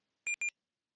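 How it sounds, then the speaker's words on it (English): Two short electronic beeps from a PC-88 computer core running on a MiSTer FPGA after the space key is pressed, a quick close double tone, clean and isolated with silence around it. "It beeped when I hit the space key"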